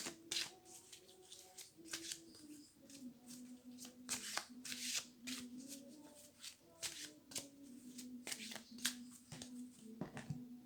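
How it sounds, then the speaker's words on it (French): Oracle cards of the Oracle Magicus deck shuffled by hand from the top, quiet close riffles and slaps repeating in quick irregular bursts, with a soft low hum underneath. "Donc on mélange bien les cartes,"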